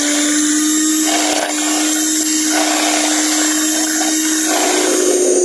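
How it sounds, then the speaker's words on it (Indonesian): Electric hand mixer beating pukis batter with vanilla powder added, a steady, loud motor whine running continuously with slight shifts in pitch as the beaters work the mixture. "kita kocok dengan mixer sampai nanti mengembang"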